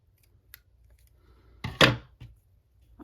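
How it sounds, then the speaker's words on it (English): Scissors cut through crochet yarn while an amigurumi is being finished: a single sharp snip, then a brief second click, close and clear against a quiet room. "cut my yarn off."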